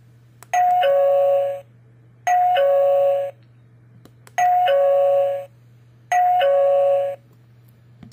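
An Ezviz CP4 video doorbell plays a two-tone chime four times at steady intervals, each ding-dong clear and moderately loud, with a low hum underneath and no voices.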